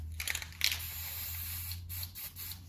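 A can of white spray paint gives a few quick rattling shakes, then a steady close hiss of spraying for a couple of seconds, with short breaks in the spray near the end.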